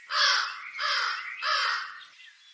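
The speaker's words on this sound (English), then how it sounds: "The crow forgot it was holding meat in its beak and happily started to sing." A crow caws three times in a row, loud and close, each harsh call drawn out with a short gap before the next, the last one fading off.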